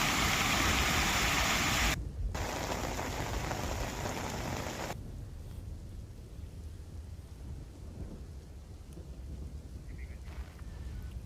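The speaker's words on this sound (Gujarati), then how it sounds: "દ્વારકામાં વરસાદે જમાવટ કરતા લોકોને ગરમીથી રાહત મળી" Heavy monsoon rain falls in Dwarka, a dense continuous roar of downpour close at hand that stays loud and steady throughout, broken by a couple of abrupt cuts, with no voices.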